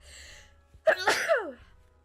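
A single sharp human sneeze indoors, close and fairly loud, with a brief intake of breath before the burst and quiet room tone around it.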